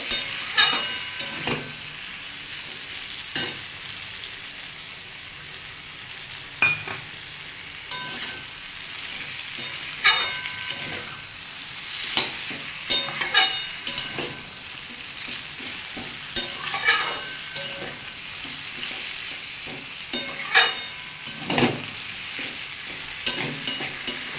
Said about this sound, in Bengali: ভালো করে এটা মশলাটা মিক্স করে নেবো